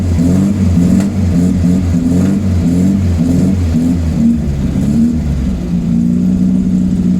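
A 1974 VW Beetle flat-four engine that has sat unused for years, running loud and close with repeated revs rising and falling before settling into a steadier idle-like drone.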